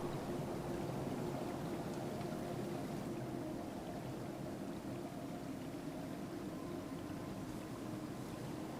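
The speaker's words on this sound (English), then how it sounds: "Running water." Steady rushing water ambience in the Lushfoil Photography Sim video game, a continuous broadband wash with a low rumble that holds at an even level throughout, with no voices.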